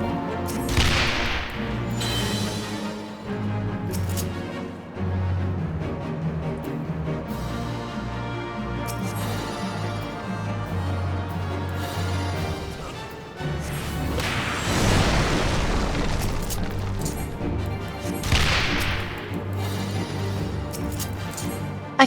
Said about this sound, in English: Let me shoot the cannon.